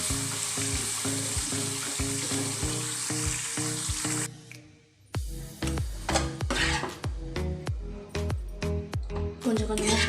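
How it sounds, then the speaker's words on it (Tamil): Ground spice powder is stirred into tamarind paste sizzling in oil for temple-style tamarind rice. A steady loud sizzle is broken by repeated sharp scrapes and clinks of a spoon against the pan. "கொஞ்சம் கொஞ்சமாக போட்டு கிண்டிக்கலாம்."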